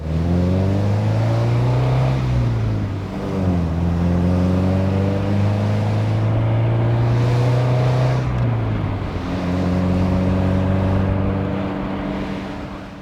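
An Alfa Romeo 75 2.0 Twin Spark engine revs up and down in repeated surges, loud and close, rising in pitch then dropping back before climbing again.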